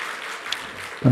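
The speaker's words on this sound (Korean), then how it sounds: "격려의 박수 한번 하겠습니다." A short burst of crowd applause, a steady wash of clapping that gives way to a voice at the very end.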